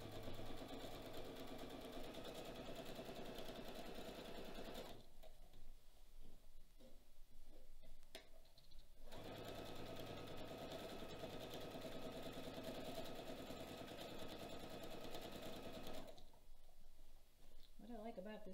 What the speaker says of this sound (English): every time I stop sewing, the needle goes down and holds everything in place so it doesn't slip out